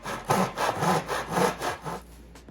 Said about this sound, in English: Now I'm gonna cut some 45-degree angles on them on the miter box